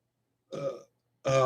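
A single person burps twice, a short belch followed after a pause by a louder, longer one, close and alone.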